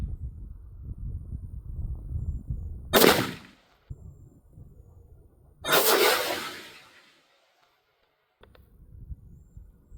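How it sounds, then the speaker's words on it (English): A rifle fitted with a magnetic buffer system fires on a range, giving loud, sharp blasts with broad rumbling tails, two bursts about three seconds apart separated by quiet gaps. "Mr. Producer is going to pull the trigger. One round."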